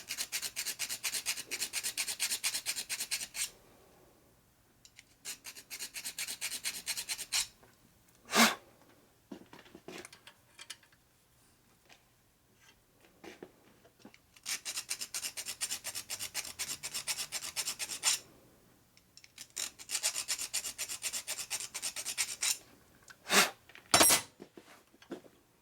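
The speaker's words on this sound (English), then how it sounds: "Looks like I filed it over enough now this time." A hand file works a 1983 Harley-Davidson FLTC 80ci Shovelhead engine part in a home rebuild, giving close, bright rasping strokes in bursts of several seconds, separated by quiet pauses and a few sharp knocks.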